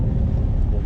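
An Infiniti G37 sitting on new Eibach lowering springs drives along the road, its steady low engine and road rumble filling the short stretch close and loud.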